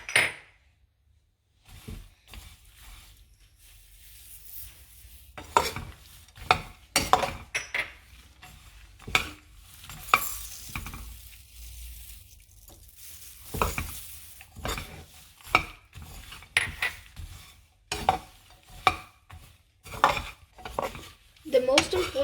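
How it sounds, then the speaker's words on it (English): Nuts roasting in a pan are stirred with a utensil, producing irregular scraping and clinking strokes against the metal over a soft sizzle, close and moderately loud, without talk. "Stir it well also. Make sure like the nuts stay bottom and on top also."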